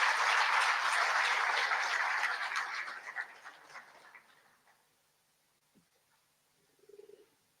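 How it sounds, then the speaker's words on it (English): An event audience applauds for Gaza journalist Youmna El Sayed, steady dense clapping for about three seconds that thins and fades out, followed by near silence and a brief faint sound at the end. "can we just give one more round of applause for Yumna?"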